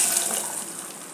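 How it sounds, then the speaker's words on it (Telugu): Water poured into a pot of simmering tomato rasam with rasam powder, a steady close gushing splash that runs evenly for about a second with no talk. "ఇప్పుడు ఈ చారు నీళ్ళు వేసేస్తున్నాను."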